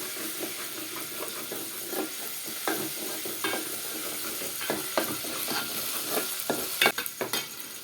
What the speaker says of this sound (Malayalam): നന്നായിട്ട് വഴറ്റി കൊടുക്കണം.